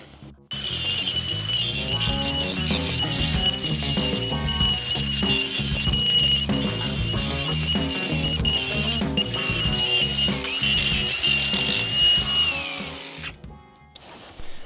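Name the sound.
Milwaukee M12 die grinder grinding a weld on an exhaust pipe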